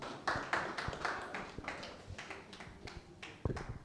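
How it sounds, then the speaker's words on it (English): A small seminar audience in a gallery claps after a session, sparse, uneven hand claps, fairly close and modest in volume, with no talking. "please, a round of applause for this wonderful session"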